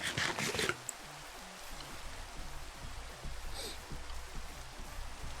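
Rain falling steadily near a stream in a swamp, a soft continuous patter at low volume with a brief louder splash near the start.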